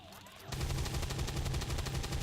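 Sustained burst of rapid ballistic gunfire from an XCOM 2 firefight, starting abruptly after a short quieter lead-in and continuing as a loud, even, machine-gun-like rattle to the end.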